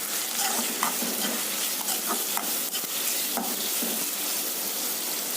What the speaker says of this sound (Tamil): இப்போ அதை நல்லா வதக்கிக்கலாம்.